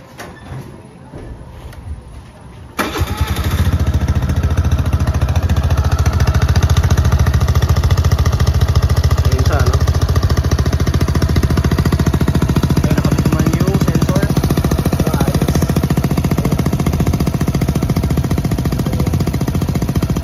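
A Suzuki Burgman Street 125 scooter with a VMAX power pipe exhaust starts after a quiet moment, then idles loudly with a steady, rapid, rattling exhaust throb held close for the rest of the stretch.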